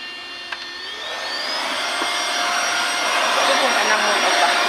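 A household vacuum cleaner whines steadily through a home cleaning session, its motor pitch rising after a brief start and then holding loud and continuous to the end.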